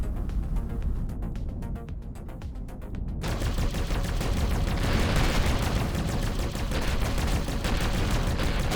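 Spaceship turrets firing at pirates in the space game Avorion: a dense, continuous barrage of rapid gunfire bursts, loud and close, rolling on without pause from start to finish.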